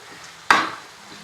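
Chicken curry hits a hot pan with a single sudden sizzle burst, loud and close, that fades quickly into a soft hiss.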